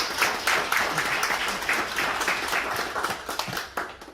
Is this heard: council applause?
yes